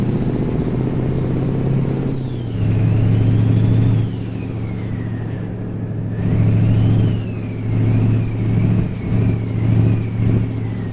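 An SCS truck engine in American Truck Simulator revving and accelerating, a loud droning tone that climbs, drops at a gear change, then rises and falls repeatedly as the throttle is worked, with no voices over it.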